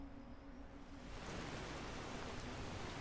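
Steady rain falling in the video game Skyrim, a dense broadband hiss that swells slightly after the first second and holds constant, with no voices.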